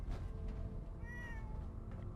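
A cat meows in the Fallout 4 game, a single drawn-out meow rising and falling over a low background hum, with no talk over it.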